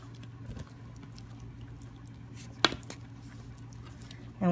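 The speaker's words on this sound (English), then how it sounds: "So we're going to go ahead and mix this all up." Zucchini bread batter is stirred in a bowl with faint scraping and soft squishing, punctuated by a sharp clink of utensil against the bowl midway, over a low steady hum.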